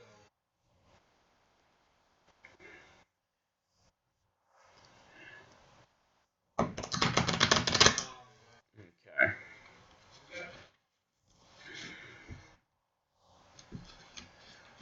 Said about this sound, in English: we'll go ahead and shuffle these real fast